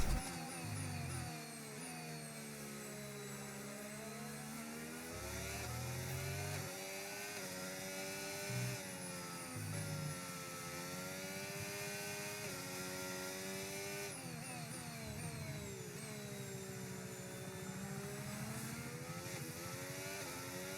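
A McLaren Formula 1 car laps in the racing game F1 25 at a young drivers test, its high engine whine rising and falling through gear shifts, continuous and loud, with no talking.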